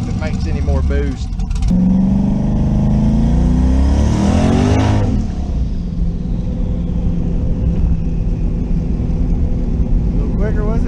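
Twin-turbo LS-swapped third-generation Camaro accelerating hard down a road, a loud engine rising steadily in pitch through a gear, then settling into a steady drone with the turbo whine behind it.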